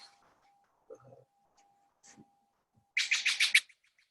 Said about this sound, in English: Beautiful birds, stellar jays.